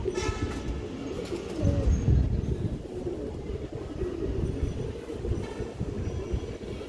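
Indian high-flying Kaldom pigeons, glossy jet-black birds, coo softly and continuously amid a dense low rumbling background, with no voices over them.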